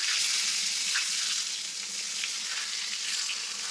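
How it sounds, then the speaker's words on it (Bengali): Slices of brinjal (eggplant) fry on low heat in a pan, giving a steady, close crackling sizzle that continues unbroken and fairly loud. "তো বেগুনটাকে আমি কিন্তু জোর কমিয়ে ভাজতে দিয়েছি"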